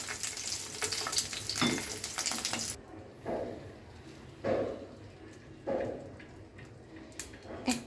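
Boiled, peeled duck eggs frying in a pan, with a bright sizzle that softens partway through, then several distinct stirring or turning scrapes over a quieter hiss; no talking.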